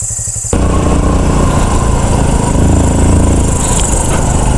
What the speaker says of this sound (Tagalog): Iwanan muna natin motor dyan, guys, na andar.